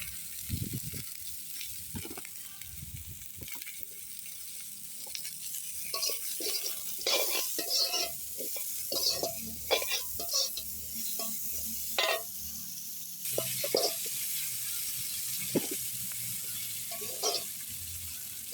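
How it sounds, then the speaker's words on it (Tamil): Chopped onions, sprinkled with a little salt, sizzle steadily in a hot pan while a utensil stirs and scrapes them, giving irregular clicks and scrapes over a continuous close frying hiss. "இப்போ வெங்காயம் வதங்கிட்டுது."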